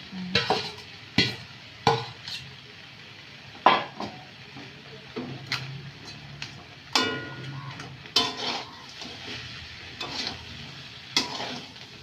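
Fried fish heads going into a pan of cooked vegetables with turmeric, heard as intermittent clanks and scrapes of a spoon against the pan over a faint sizzle, close by and fairly quiet, with no voices.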